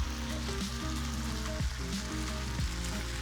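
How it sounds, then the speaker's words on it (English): Tomatoes hit a hot frying pan with potatoes and garlic salt for Mexican papas, giving a loud, steady, close sizzle throughout. "Now we're going to add our tomatoes."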